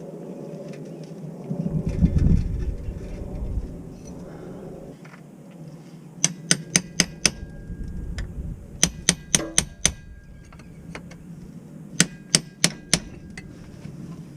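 A pry tool worked against the soft aluminum of a 2003-2008 Honda Pilot rear axle gives scraping and grinding, then clusters of sharp metallic clinks and taps in quick bursts, close and fairly loud.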